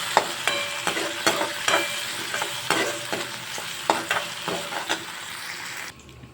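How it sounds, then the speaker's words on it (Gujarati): Chopped tomato with ginger-garlic paste and salt sizzles in a pan, broken by a dozen or so rhythmic spatula scrapes and taps, then drops to quiet at the very end. "હવે આપણે ટમેટાને કૂક કરી લઈશું"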